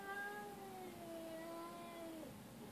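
A cat meows at a window, one drawn-out, slightly falling meow that is faint and fairly distant against a quiet background.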